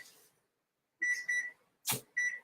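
A kitchen timer in a home kitchen gives a few sharp electronic beeps, spaced irregularly across a couple of seconds, fairly close and clear with no talk over them.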